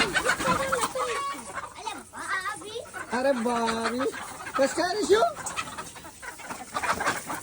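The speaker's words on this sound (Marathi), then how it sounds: "कसे कोंबडे पकडतो" Chickens cluck and squawk in agitated bursts while people shout and talk nearby, with scuffling movement throughout.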